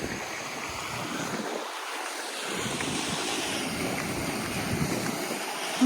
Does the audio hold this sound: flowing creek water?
yes